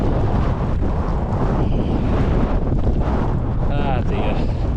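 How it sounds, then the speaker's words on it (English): Strong wind buffeting the microphone at a wild mountain camp beside Sprinkling Tarn in England, a steady loud roar of gusts that covers the whole stretch. "The wind is picking up though, I don't know if you can tell."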